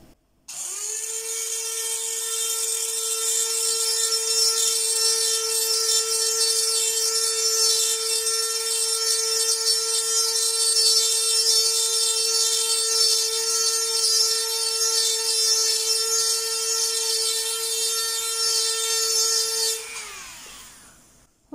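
A small power drill bores into amber stone, a steady high-pitched whine held for about twenty seconds with a grinding edge before it winds down and stops, close and alone.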